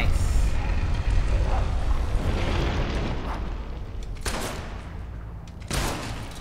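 Ranged weapon fire in the video game Fable III: loud booming shots and explosive bursts over game noise, with several sharp blasts near the end.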